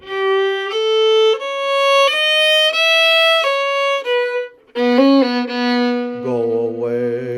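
A solo violin plays a passage from The Nutcracker, moving through clear sustained bowed notes with swelling crescendos, close and loud with no talking.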